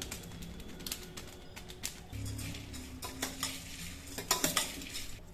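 A spoon stirs wet oli bhel with chopped onion, tomato and coriander in a bowl, giving soft steady scraping and squelching with sharp clinks of metal against the dish throughout.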